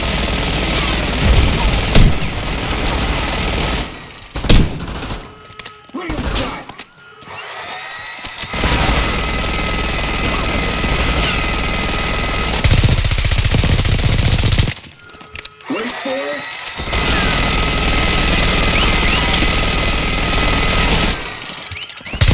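Minigun fire in Call of Duty: Black Ops 6 campaign, loud sustained rattling bursts that roar for several seconds, cut off abruptly, then resume in long continuous volleys with brief gaps between them.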